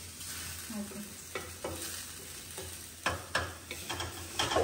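Onions frying in a pan in a home kitchen, a steady low sizzle broken by several louder scraping stirs toward the end, close and moderately loud with no talk.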